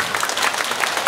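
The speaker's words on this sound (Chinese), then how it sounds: "请大家给热烈的掌声。" Brief burst of audience applause at a Buddha's birthday celebration in a Buddhist temple, many hands clapping steadily at moderate loudness.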